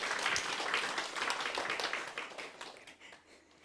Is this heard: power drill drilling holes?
no